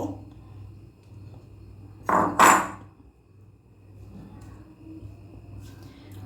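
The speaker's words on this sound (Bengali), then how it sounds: "এবার আমি চিকেনটাকে একটা মিক্সিং বোলে ট্রান্সফার করব।" Boiled chicken is tipped into a mixing bowl in a home kitchen, making two quick clattering knocks in a row against an otherwise quiet background.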